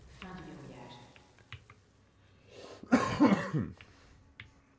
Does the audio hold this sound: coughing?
yes